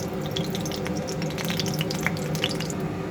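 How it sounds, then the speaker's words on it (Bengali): Butter and white oil heat in a wok, giving a steady, close, crackling sizzle with small scattered pops and a watery hiss throughout. "এবার আমি কড়াতে একটু সাদা তেল দিয়ে দেবো, আর এর মধ্যে আমি একটু বাটার দেবো।"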